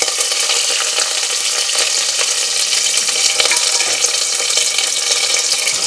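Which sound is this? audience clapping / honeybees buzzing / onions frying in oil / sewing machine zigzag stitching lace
onions frying in oil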